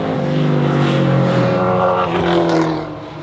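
A Subaru WRX STI with a swapped flat-six engine is revved while its cooling system is being burped, a loud, close rising and falling engine note that eases off at the end.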